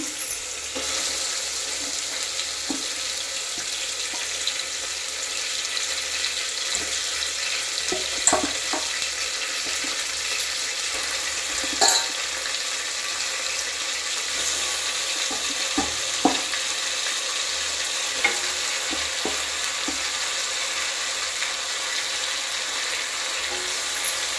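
Mutton and tomatoes sizzle and fry in a pan while being stirred, a steady crackling hiss broken by occasional clinks and scrapes of the spoon.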